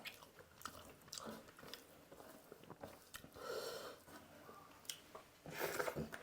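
Someone eating fried bhetki fish with lemon and chilli, close, soft chewing and biting sounds in irregular bursts, quiet and intimate with no talking.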